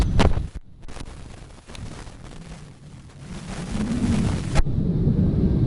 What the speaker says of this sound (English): I believe this storm is gonna pass.